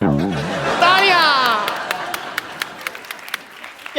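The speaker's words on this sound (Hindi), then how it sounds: "तालियां!" Studio audience applause on a Hindi comedy talk show, a dense burst that rises under speech and a sweeping musical sting, then thins into scattered individual claps as it fades.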